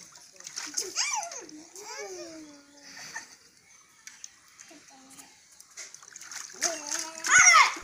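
Water splashes loudly during a child's bath at home, in bursts amid lively children's voices and chatter, with a big splash near the end.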